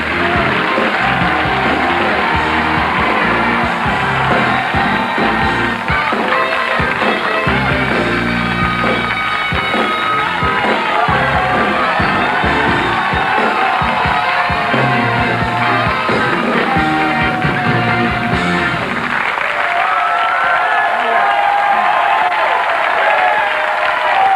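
A television studio audience at a 1987 late-night variety show applauds and cheers loudly and continuously, with band music mixed in, before the crowd noise drops away near the end.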